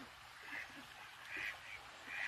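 Ducks out in the hills by water give three nasal quacks about a second apart, fairly faint and somewhat distant, with no talking.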